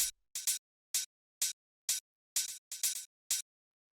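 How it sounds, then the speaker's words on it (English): Crisp open hi-hat sample hits for tech house, alone, ringing briefly in a steady upbeat pattern with a few quick doubled strikes, about nine hits in all. "So this is sort of like the main open hi-hat type sound"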